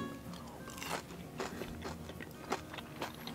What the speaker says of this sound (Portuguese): Escuta essa crocância, peraí.